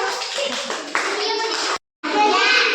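A group of children clap their hands together in a busy burst while learning an Odia song of the twelve months, with young voices mixed in; the clapping cuts off briefly, then resumes.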